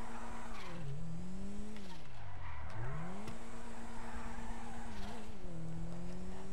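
Drift car in the GTA 5 video game skidding with a steady engine drone and long tire squeal, pitch dipping and rising through slides; loud and continuous with no talking.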